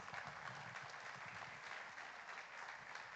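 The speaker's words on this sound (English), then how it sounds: "Can we have a big round of applause," Audience applause at a formal ceremony marking the commissioning of a trisonic wind tunnel: steady, dense clapping from a large crowd, continuous and moderately distant, with no speech.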